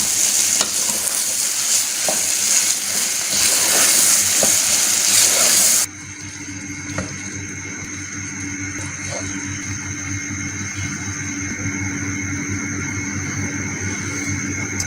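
Aloo anday salan, a potato and egg curry with garam masala and kasuri methi, sautéing in a pan, a loud dense frying sizzle that abruptly drops to a softer steady hiss with faint stirring scrapes, no voices.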